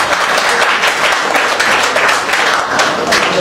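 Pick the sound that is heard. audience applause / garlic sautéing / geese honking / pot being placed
audience applause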